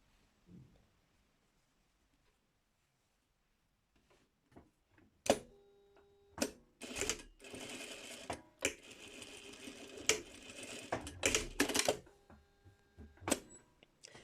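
Sewing machine stitching a clean-finish collar seam at a garment neckline with bias binding. Quiet at first, then several close, loud bursts of rapid stitching from about five seconds on, each separated by short pauses.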